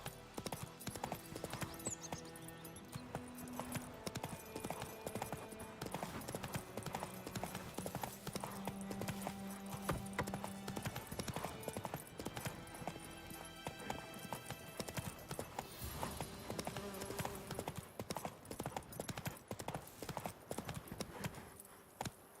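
Roach the horse galloping in The Witcher 3, a rapid rhythmic clip-clop of hooves running steadily throughout with a game music score underneath.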